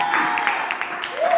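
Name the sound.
church congregation clapping hands in praise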